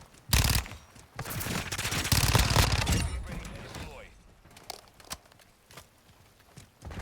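Gunfire in a Call of Duty match, rapid loud bursts in the first few seconds, then sparse scattered shots and mechanical clicks, with a voice talking over parts of it.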